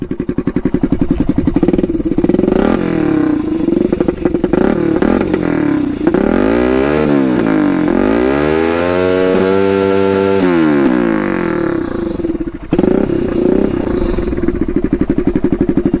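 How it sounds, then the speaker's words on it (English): A turbocharged Honda 400ex ATV engine runs loud and close, climbing from a steady idle into a long sweeping rev that peaks and falls away, then settles back to a rough idle. "I can rev it out all the way like that."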